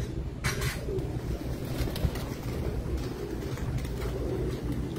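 Breeder pigeons coo softly amid a steady, noisy background in their loft, the low calls blending into a constant murmur of sound.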